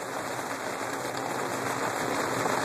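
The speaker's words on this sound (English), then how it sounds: "And it's raining like a motherfucker out." Heavy rain pours steadily at a creek bridge, a dense, even hiss of falling water that stays continuous and close with no clear talking over it.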